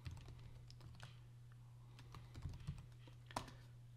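A password being typed on a computer keyboard at an HMI login screen, a run of light, irregular key clicks over a steady low electrical hum, with a couple of sharper presses near the end.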